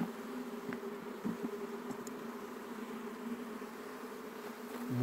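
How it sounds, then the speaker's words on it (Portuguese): Honey bees buzz steadily around hive frames during a transfer to a standard hive box, a dense, continuous close-up drone with faint clicks and handling noises and no speech. "Então, pessoal, tem bastante abelha."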